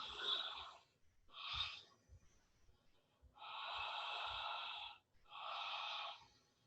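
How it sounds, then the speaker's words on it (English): Deep, full-body breaths drawn through a wide open mouth in a breathwork session: four loud, airy inhales and exhales in an uneven rhythm, close and alone, with near silence between them. "Start taking full body breaths."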